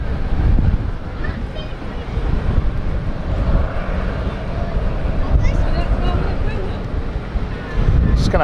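A Helvetic Airways (Swiss) airliner at London City Airport gives a steady, loud broadband jet roar with gusting wind on the microphone, continuous throughout, while people talk over it.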